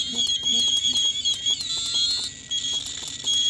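Several radiation detectors alarm together, a dense layer of high electronic beeps and chirps in rapid overlapping bursts, loud and close, with no talk.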